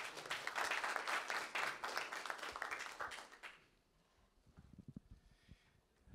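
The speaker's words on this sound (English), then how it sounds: "You can clap your hands." An audience claps hands in welcome at a conference workshop, loud dense applause for about three and a half seconds that then drops away to near quiet with a few scattered low knocks.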